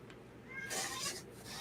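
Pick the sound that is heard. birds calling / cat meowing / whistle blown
cat meowing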